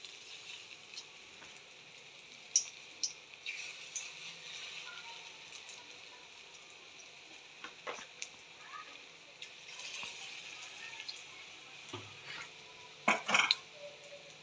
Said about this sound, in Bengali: তেলটা গরম হয়ে গেছে, এবার আমি বড়াগুলো ছেড়ে দেবো।